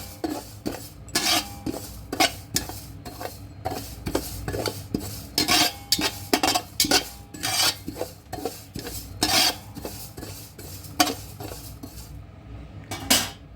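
Cumin seeds dry-roasting in a pan for homemade red chilli masala, stirred with a metal utensil in repeated close scraping and clinking strokes, uneven rhythm, no voices.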